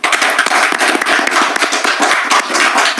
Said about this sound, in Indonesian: Tepuk tangan buat Abah Setu.